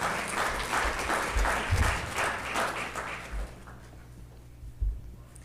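Audience clapping at a board of education meeting, a brief burst of applause in a hall that thins out and fades after about four seconds, with a few stray claps at the end.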